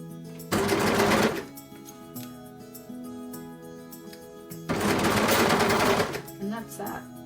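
A sewing machine stitches a striped seam in two loud, fast bursts of rapid mechanical clatter, each lasting about a second, separated by a quieter pause with faint handling noise.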